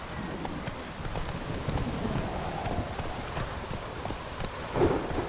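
Roach the horse gallops through rain in The Witcher game, rapid hoofbeats running continuously over a steady wash of rainfall, with a brief louder swell near the end.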